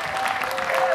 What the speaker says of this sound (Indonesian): Tepuk tangan untuk mereka.